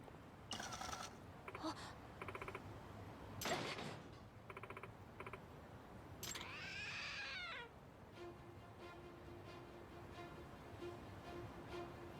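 A cat meows several times, with rising and falling pitch, in the video game Lost Judgment, mixed with game sound effects, clicks and a steady background hum.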